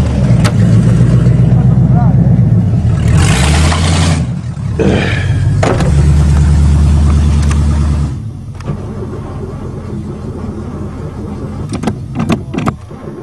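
A car with a bad alternator and a weak battery runs its engine while being moved and reparked: a loud, steady drone that surges and shifts midway, then drops quieter, with a few sharp clicks and knocks near the end.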